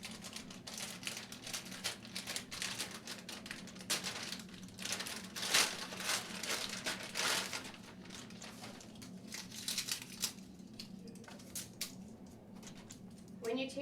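A blood administration set is pulled from its plastic package, giving repeated crinkling and rustling with sharp crackly bursts, close and moderately quiet.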